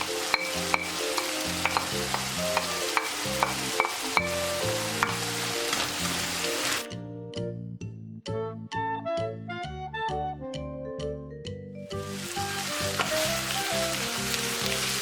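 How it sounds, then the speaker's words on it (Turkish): Ground beef and two chopped onions sizzle steadily in a hot pan, with frequent scraping and clinking as they are stirred, loud and close throughout. "2 adet orta boy yemeklik doğranmış soğan ekleyip kavurmaya devam ediyorum"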